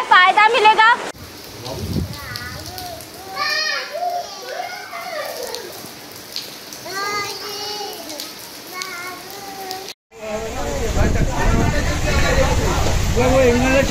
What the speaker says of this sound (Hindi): आप देख सकते हैं मेरे पीछे कि अचानक जो है झमाझम बारिश होने लगी है